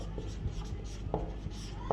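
Pen writing on paper or a board while working through multiplication properties, soft continuous scratching strokes with small taps over steady room noise.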